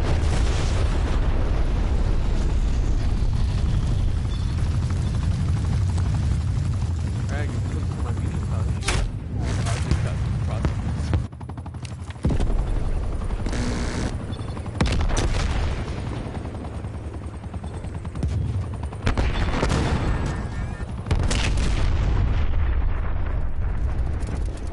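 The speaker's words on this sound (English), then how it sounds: "Enemy napalm strike incoming." Napalm strike explosions in a video game roar continuously with heavy rumbling blasts and bursts, loud and dense, with a few brief drops and sharp cracks, and voices talk underneath.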